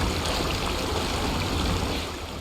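A truck in the video game SnowRunner crosses a river, giving a dense, steady rush of splashing water and churning surf-like noise throughout, loud and close with no voices.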